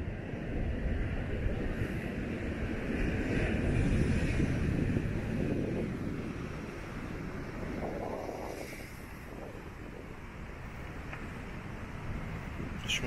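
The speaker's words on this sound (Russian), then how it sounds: "Еще волны немножко сейчас разбушевались. Ветер усилился." Strong wind buffeting and rough sea waves rolling against the rocky coast at Flinders Blowhole on the Mornington Peninsula, Victoria, a continuous loud roar with surging swells.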